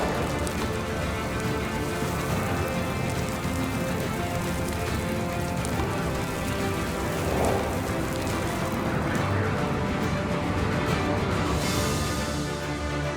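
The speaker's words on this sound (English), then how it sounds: "I was about to simulate a sandstorm." Sand pours steadily over an ant colony tank to simulate a sandstorm, making a dense, continuous hiss like heavy rain that stays loud and even throughout with no pauses.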